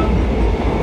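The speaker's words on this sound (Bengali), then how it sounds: "আমাদের ট্রেন এখন ছাড়ছে ঠাকুরনগর স্টেশন থেকে" A crowded Sealdah–Bangaon local train pulls out of Thakurnagar station during office hours. A loud, low rumble of wheels and carriages fills the short moment, with no talking.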